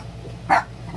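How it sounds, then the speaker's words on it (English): A dog lets out a single short, sharp bark indoors, close and fairly loud, with a quiet low hum before and after. "Amy, why are you barking?"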